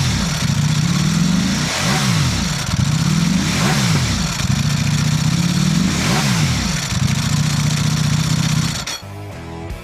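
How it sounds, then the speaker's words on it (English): A Ducati Panigale V4 SP superbike's engine revs hard and loud in repeated surging bursts, each climbing and dropping back in a rhythmic cycle, ending with a brief shift in tone. "The Panigale V4 SP, the iconic Ducati Superbike racing sound."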